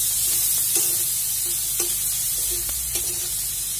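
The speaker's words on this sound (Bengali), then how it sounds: "পেঁয়াজগুলো ভাজা হয়ে গেছে এখন দিয়ে দিব রসুন শেষে রাখা রসুন দিয়ে দিলাম" Garlic frying in oil with onions for a sweet potato leaf curry, a steady loud sizzle with a few light stirring taps throughout, no voices.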